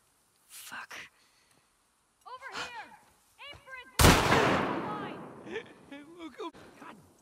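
Gunfire in The Last of Us Part II: one sharp, loud shot bursts out and decays into a long rumbling tail, set among scattered voices and shouting before and after.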